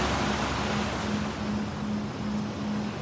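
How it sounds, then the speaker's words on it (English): Calming ocean waves wash in a steady, continuous broadband rush with a faint low hum underneath, even and unbroken throughout, with no voices present. "enjoy the calming sounds of the ocean"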